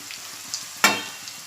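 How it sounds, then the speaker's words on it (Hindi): Chicken seekh kebabs made from raw chicken mince go into hot oil for slow frying, giving one sharp, close hiss and crackle partway through that fades over a quiet background. "अब मैं इसमें ये सीख तलने के लिए डालूंगी और ये सीख हम धीमी आंच पर तलेंगे"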